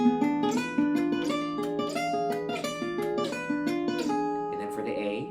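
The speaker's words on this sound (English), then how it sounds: "on the diminished 7 arpeggio. And that sounds like this" A gypsy jazz guitar picks a diminished 7 arpeggio in quick, clear runs of plucked notes, close and unaccompanied, ending with a softer strum and fading ring.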